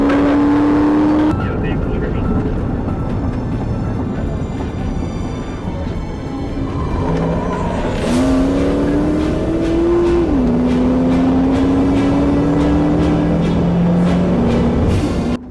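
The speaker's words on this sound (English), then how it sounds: "the suspect floored the gas, launching onto the highway at breakneck speed" A red Camaro SS accelerates hard at high speed during a police chase, its loud engine climbing through rising pitch sweeps across gear changes, with a voice talking over the roar.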